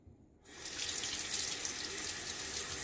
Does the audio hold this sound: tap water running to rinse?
yes